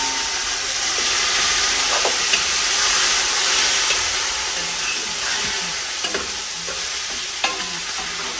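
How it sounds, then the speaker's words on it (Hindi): Chicken frying in a pan with already browned onions, a steady close hiss and sizzle with occasional stirring clatter, no talk. "अभी मैं चिकन डालने लगी हूँ, ये ऑलरेडी ब्राउन ही है"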